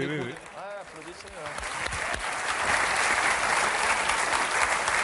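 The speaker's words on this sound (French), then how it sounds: "Ah, applaudissez." Applause from an audience at a Dieudonné comedy show rises after someone speaks briefly, the clapping swelling into a steady, loud roar from a full room.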